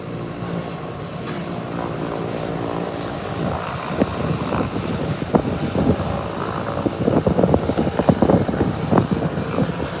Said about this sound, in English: British Airways 777 coming in from London Heathrow Airport via Nassau, Bahamas.